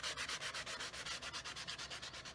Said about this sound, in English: this is a sanding block. Basically, I go over the edges to try to get a smooth finish